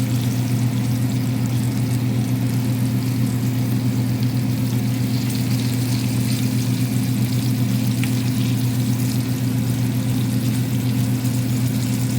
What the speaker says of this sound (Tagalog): Luto tayo ng chicken wings.